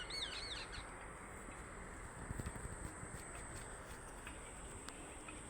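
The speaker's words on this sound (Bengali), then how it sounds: "পাখির কিচিমিচি ডাক" Birds chirp outdoors in open nature: a few quick tweets early on, then faint scattered calls over a steady breezy hiss with soft thuds in between, no speech.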